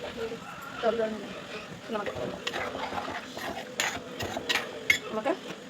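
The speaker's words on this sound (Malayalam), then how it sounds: "അപ്പോൾ നമുക്കിനി ഇളക്കാം." A pot of fish curry is stirred, with soft scraping and clinks of a spoon against the vessel and a faint bubbling simmer underneath, while a person talks over it.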